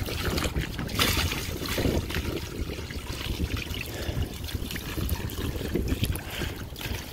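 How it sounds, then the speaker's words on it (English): Water splashed by hand out of a small backyard wading pool that holds a rock, heard as continuous close sloshing and splashing with a busy, turbulent wash and no speech. "now I gotta splash all the water out and try to get the rock out."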